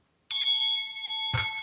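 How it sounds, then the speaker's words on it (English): A single bright bell rings once and sustains with a clear, steady tone, then a soft knock sounds near the end as the ring fades; no talk. "Need to ring the bell."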